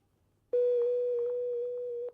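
A single steady electronic telephone tone from a call ringing in on a 1989 French TV game show sounds for about one and a half seconds, clear and close, then cuts off.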